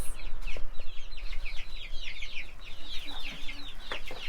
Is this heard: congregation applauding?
no